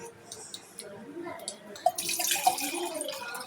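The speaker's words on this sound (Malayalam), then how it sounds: "ഇതിലോട്ട് കുറച്ച് പച്ചവെള്ളം ഒഴിച്ചിട്ട് വരാം" Tap water pours and splashes into a container while lemon juice is being made, a faint trickle that gets busier toward the end with a couple of small drips.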